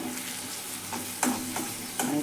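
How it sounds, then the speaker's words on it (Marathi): Curry leaves and a spoonful of red masala sizzle in a frying pan with charred tomato and onion: a steady hot crackle with a few louder pops as the ingredients hit the oil, with no voices. "आता त्याच्यामध्ये 2-3 पानं कढीपत्त्याची टाकू आणि थोडंसं 1 चमचा लाल मसाला टाकू"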